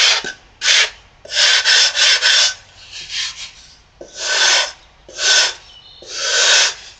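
A sanding block is worked by hand over a tooling-board model aircraft fuselage, making loud, close rasping strokes in an uneven rhythm, with short pauses between the scrubbing passes.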